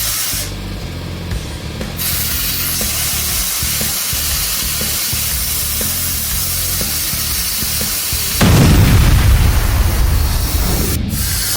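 Compressed air hisses and rushes from an air tank through a high-flow doubler into a tractor tire being seated on its rim, with rubbing and clanking throughout, then a loud, sudden surge of air near the end.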